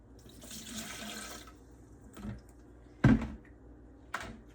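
Fresh lemon juice is poured into pineapple lemonade with a soft, brief splash of liquid. Several sharper knocks of the container follow nearby, and there is no talk.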